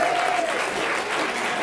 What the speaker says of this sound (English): please, a big round of applause for Mike Northcott doing sound today for us